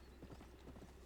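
Horse hooves clip-clopping in the video game Red Dead Redemption, a steady close run of muffled hoofbeats with a faint whinny behind, no talk over it.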